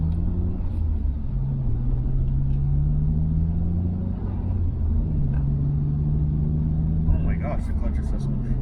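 A Nissan Skyline R34 GTR V-Spec, right-hand drive with a six-speed manual, cruising in sixth gear, giving a steady low engine drone and road rumble heard from inside the cabin, loud and even throughout.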